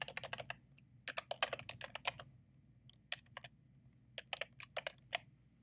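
Typing on a computer keyboard while entering questions into an online form, clustered bursts of crisp key clicks separated by short pauses, close and moderately loud with no talking.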